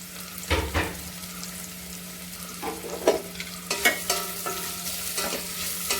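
Medium-sized chopped onion sautéing in a pan for macaroni masala, a soft constant sizzle broken by several sharp scraping stirs of a spatula against the pan, close up with no speech.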